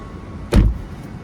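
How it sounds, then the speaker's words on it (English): A 2025 Tesla Model Y door shutting from inside the cabin: one solid, low thud close by against a quiet background. "Let's close the door."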